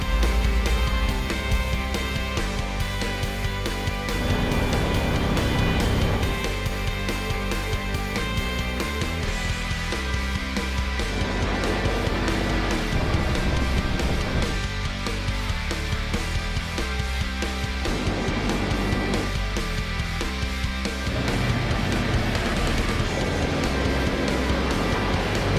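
Off-road machines running on a trail north of Payson, Arizona, with a steady droning engine rumble that swells and eases as they drive, and no voices.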